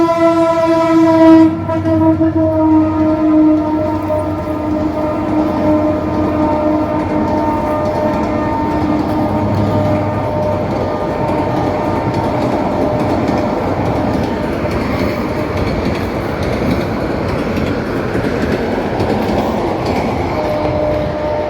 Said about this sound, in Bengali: ওই ট্রেন আসতেছে